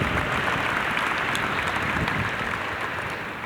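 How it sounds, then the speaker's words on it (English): Loud, dense applause fills the hall during a state of the city speech in Bridgeport, a large audience clapping steadily without pause and easing slightly toward the end. "Give her a round of applause as well."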